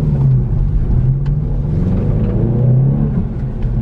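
Subaru WRX STI RA-R on Continental studless tires pulling away on a gravel road, a loud low engine rumble and tire noise held steady close by, no voices.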